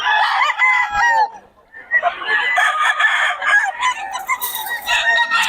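Several chickens and roosters crow and cluck steadily and close by at a poultry market in Bocaue, with a brief dip in the middle before the calls build again, alone without talk.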